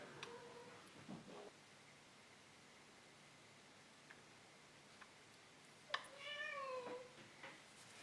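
Cats meowing at night around 1 a.m.: a few short cries near the start, then a clearer, louder yowling meow near the end, with quiet steady hiss and faint ticks in between.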